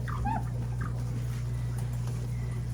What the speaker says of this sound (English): See if Teddy barks